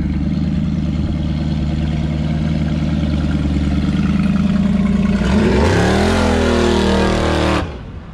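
A 1934 pickup with a small block Chevy V8 and a 6-71 blower at a cruise idles with a loud, lumpy rumble, then revs hard several times near the end, the engine note climbing sharply before cutting back.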